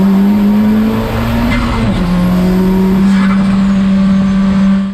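An NSX race car with a turbocharged Honda K20C engine and lightweight exhaust drones loudly at a steady pitch, dipping briefly as it shifts, then holding a raspy, resonant exhaust note.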